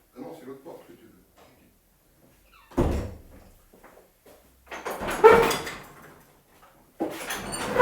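A house door opens and closes for a cat, with several sharp thuds and wooden rattles between pauses, close by, while a person speaks softly at the start.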